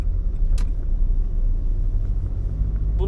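A manual-transmission car engine idles in neutral after its clutch cable has snapped, a steady low rumble running throughout at close range with no talk over it.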